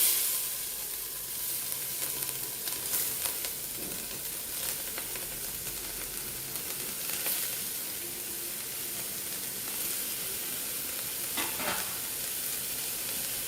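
Grated carrot sizzles and sautés in hot ghee inside a pressure cooker, a steady broadband frying crackle with occasional stirring scrapes throughout, fairly quiet and close, with no talking.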